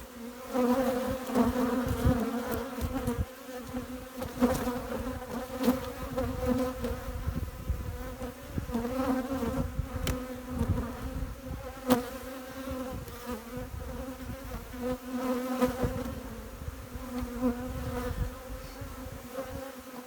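Dense swarm of honeybees buzzing around an open hive colony, a steady close drone with individual bees flitting past now and then, no talk.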